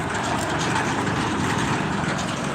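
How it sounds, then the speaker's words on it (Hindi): Road traffic near a busy market, with trucks rumbling in a dense, continuous low roar of engines and passing vehicles, fairly loud and steady, with no clear speech on top. "ऐसे गाड़ी वगैरह आवाज़ ज़्यादा है, आगे ट्रक इधर कुल।"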